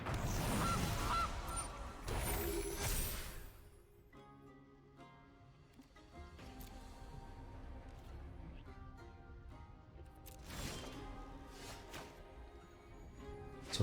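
In a Magic Arena card game, a Goose card is killed and goose honks sound out, several short honking bursts among busy game effects and chimes.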